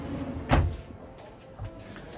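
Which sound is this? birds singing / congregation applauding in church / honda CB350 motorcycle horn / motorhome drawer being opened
motorhome drawer being opened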